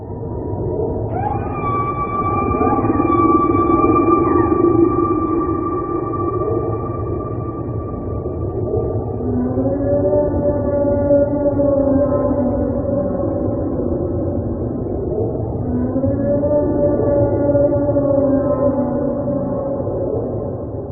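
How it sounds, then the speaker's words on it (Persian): Whale calls recorded deep in the ocean: long, loud, moaning tones with layered harmonics that rise, hold and bend, sounding alone over a steady low underwater rumble. "این صدا فقط مال یه نهنگه"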